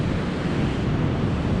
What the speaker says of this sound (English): there's the Tuolumne River is just rushing down this canyon